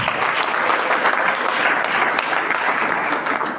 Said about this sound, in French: Acclame très fort, Seigneur.